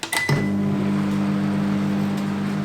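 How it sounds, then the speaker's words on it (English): A microwave oven heats water; a short clack as it starts gives way to a steady, low electrical hum that runs on evenly. "And into the microwave for about 4 minutes"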